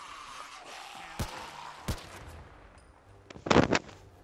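Gunshots aimed at a zombie in a video game survival mode: two sharp, separated single shots followed by a quicker, louder cluster of three or four near the end, over a quiet background.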